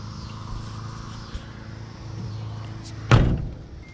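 A car door on a 1964 Chevrolet Impala SS slams shut with one solid, close thud near the end, over a low steady background hum.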